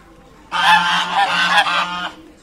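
Several geese honk loudly and repeatedly at close range at a zoo in Mykolaiv, Ukraine, in a noisy burst lasting a couple of seconds.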